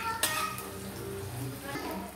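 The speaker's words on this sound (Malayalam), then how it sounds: "നാരങ്ങ നല്ലിട്ട് ഇളക്കി കൊടുക്കാം" Lemon pieces being stirred in hot oil in a pan for a Thiruvananthapuram-style lemon pickle: a continuous close sizzle with a couple of sharp spoon knocks against the pan.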